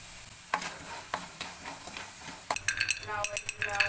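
Rambutan seeds dropped into hot cooking oil and salted: scattered clinks and light stirring at first, then a close crackling sizzle with sharp pops building near the end.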